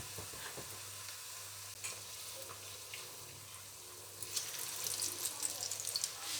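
Aloo gobi chapli kababs shallow-frying in a small pan, a quiet steady sizzle that grows brighter and crackles more toward the end, with faint clinks and no talking.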